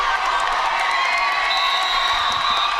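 Crowd noise at a girls' high school regional semifinal basketball game, Howe Lady Bulldogs versus Chapel Hill Lady Devils, as a steady, loud roar of cheering and shouting fills the gym throughout without letting up.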